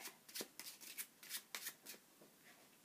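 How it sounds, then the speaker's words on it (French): A deck of playing cards is shuffled by hand during a magic trick, a quiet close series of crisp riffling flicks in uneven bursts. "Le magicien mélange ce paquet."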